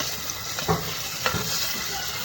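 Tomato pulp is stirred into fish curry in a pan, giving a soft, wet scraping under a steady background sizzle, with a couple of brief, louder stirring strokes close by.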